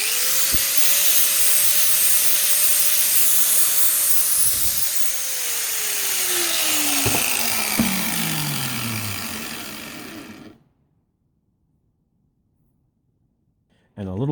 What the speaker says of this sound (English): improve the edge a little bit by polishing it up with the flat wheel